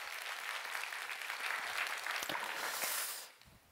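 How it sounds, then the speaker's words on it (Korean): A church congregation applauds together at a service, a dense, fairly distant wash of clapping that holds steady for about three seconds before quickly fading out. "우리 마음을 모아서 박수 한번 하시겠습니다."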